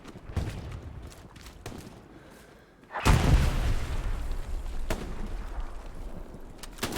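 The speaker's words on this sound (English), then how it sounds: "Artillery's walking this way." Artillery shells landing in the WW2 shooter Hell Let Loose, with a heavy, close boom that rumbles on for seconds, set between scattered sharp cracks of distant gunfire.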